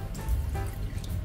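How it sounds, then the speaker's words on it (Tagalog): Water pours briefly into a bowl while teriyaki sauce is being prepared, a short close splashing trickle with a few drips. "Sa isang bowl, ilagay lang natin ang tubig"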